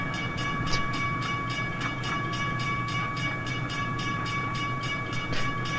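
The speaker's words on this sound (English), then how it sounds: "Amtrak F40 noises and Amtrak P42 noises." Amtrak F40 and P42 diesel locomotives in the Trainz video game rumble steadily with rhythmic clicking of wheels over rail joints, close and continuous, under a sustained high tonal whine.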